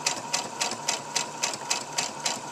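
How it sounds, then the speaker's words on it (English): A sewing machine stitches fabric for a store-bought dog bandana, a fast, even run of mechanical clicks and whirs heard up close without a break. "I'm just sewing."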